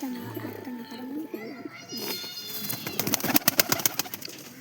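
Soft pigeon cooing sits under a voice, followed by a burst of fluttering wing flaps and rustling near the end.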